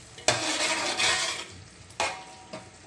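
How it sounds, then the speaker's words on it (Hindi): Chopped bottle gourd stirred in a hot curry pan for a fish curry, with loud sizzling bursts and a couple of scraping stirs close by, no talking. "1 मिनट पकाएंगे लौकी डाल के,"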